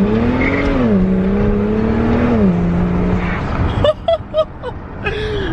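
A tuned BMW 135i fitted with a 500+ horsepower kit revs and accelerates in a quick rip, its steady engine tone rising and shifting, then breaking into short choppy bursts near the end.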